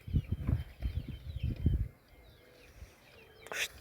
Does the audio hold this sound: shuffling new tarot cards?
no